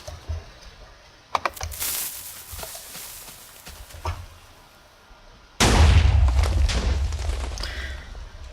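A Minecraft TNT cannon fires in the game. Several sharp cracking blasts come first, and then a loud, sustained booming explosion rumbles on to the end. Nobody speaks.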